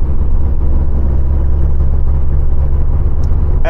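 A Volkswagen Beetle's engine drones steadily while driving along, a loud constant low rumble with road noise and no voices.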